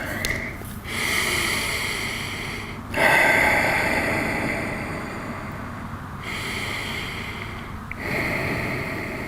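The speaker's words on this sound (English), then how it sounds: "let's take a few breaths here" Deep breathing during a yoga stretch for the inner thighs and groin, slow audible inhales and exhales in long repeating cycles, close and steady with no talk.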